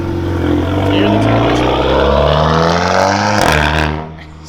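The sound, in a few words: turbocharged car rolling out, loud turbo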